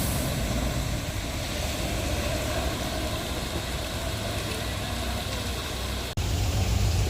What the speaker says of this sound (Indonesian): Ini dia truk Fuso Super Grade.